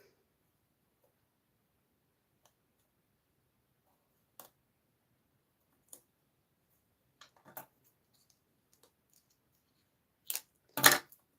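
Scissors cutting through card for a pop-out diamond card, a few sparse quiet snips spread out before a louder burst of two close cuts near the end, no talking.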